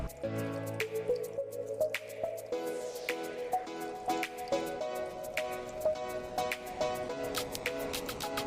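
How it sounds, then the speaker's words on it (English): Hot heavy cream is poured over semi-sweet chocolate chips, giving a steady run of soft drips and wet plops close by with no talk. "I'm combining hot heavy cream with semi-sweet chocolate chips"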